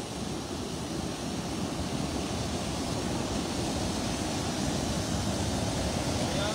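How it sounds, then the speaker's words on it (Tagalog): Steady broadband roar of a waterfall's rushing water near a cast-net fishing spot, loud and unbroken throughout, with no clear voices over it. "Yan o, waterfalls."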